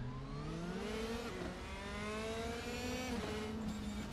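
A race car engine in the RaceRoom racing game revs in a short first gear, a loud continuous drone whose pitch climbs, dips briefly at a shift and climbs again.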